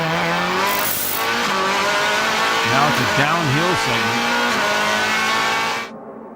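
Onboard with Laurent Aiello's Audi DTM race car at Spielberg in 2001: a loud, close engine scream rising and falling through gear changes, with a brief squeal on a downhill section and a commentator talking over it.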